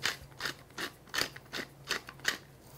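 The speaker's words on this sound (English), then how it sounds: "a little bit of fresh ground pepper" A pepper mill grinding fresh black pepper, about eight quiet rhythmic crunching twists in quick succession, close and alone with no talk.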